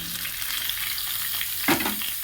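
Pumpkin, eggplant and potato pieces frying in oil with spices: a dense, close sizzle throughout, with a brief clatter and rising hiss near the end as the vegetables are stirred or added.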